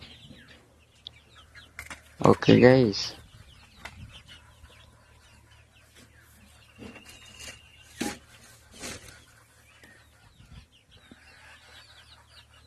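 Chickens being raised for a 60-day cycle cluck and call nearby, with one loud burst of rapid clucking early on followed by scattered softer clucks and rustles, and someone speaks briefly.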